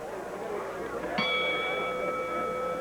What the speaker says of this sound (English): I hear that bell ring